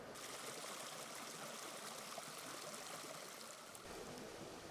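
A small creek in Arizona's Sky Islands (Harshaw Creek) flowing steadily, a soft continuous burble and trickle heard alone at low level.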